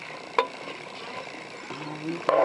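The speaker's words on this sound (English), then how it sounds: "get these vegetables kind of sauteed up in here" Vegetables sautéing in garlic butter in a pot give a soft steady sizzle, broken by a few sharp clanks of a utensil stirring against the pot.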